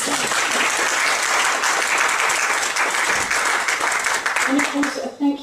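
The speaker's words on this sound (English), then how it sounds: "Big round of applause," Audience applause for the sponsors of the Published Poets Prize at the Dunedin Robert Burns Poetry Competition, a full, sustained burst of clapping from a room of people that holds steady and then thins out at the very end as a voice begins.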